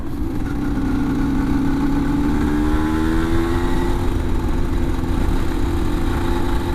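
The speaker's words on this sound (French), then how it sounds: "la moto, elle est grasse, on entend le moteur." A 125cc motorcycle engine, running rich, runs steadily and loudly up close, its pitch rising slightly as it revs, then holding a constant drone.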